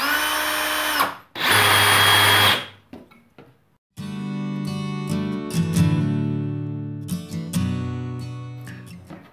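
A cordless drill revs hard when its trigger is squeezed, giving a loud, close, sustained whir in two bursts; steady tonal rings and bright scraping sounds follow.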